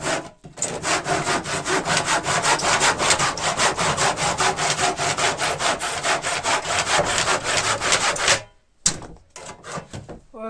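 A saw cuts through a garage wall in fast, rhythmic back-and-forth strokes, loud and close, running steadily before a short pause and a few final strokes.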